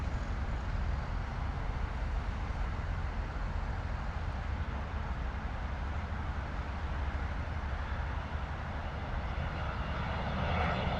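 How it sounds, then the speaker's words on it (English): A Loganair ATR turboprop with a tartan tail lands at London Heathrow, giving a faint, steady engine drone and airflow hiss that stays level without a clear peak. "An ATR coming in, eh? Into London Heathrow."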